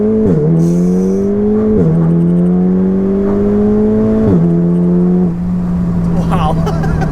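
A VW Golf R Stage 2 with DSG pulls hard in first gear in Mexico, its engine note climbing in steady rising sweeps broken by brief dips at each shift, loud and close, with people talking over it.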